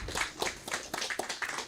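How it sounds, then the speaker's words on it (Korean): Rhythmic clapping from a church congregation, steady repeated claps in a moderately paced beat, fairly dense and sustained throughout. "영광의 박수 하나님"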